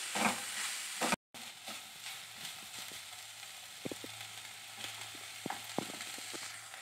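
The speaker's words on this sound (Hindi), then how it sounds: "ऑनियन, मीडियम फ्लेम अल्ली फ्राई माड़ी" Green chillies and onions fry on a medium flame for shakshuka, making a soft, steady sizzle with scattered light stirring clicks and a brief cut to silence near the start.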